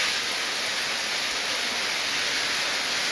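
Heavy downpour on the Baleshwar riverbank at Mathbaria, a dense, steady, even roar of rain with no talk.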